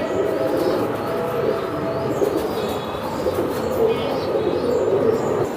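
Pakistani Teddy pigeons at a farm coo in low, overlapping throaty calls, a dense chorus of birds close by with occasional chirps and wing flutters.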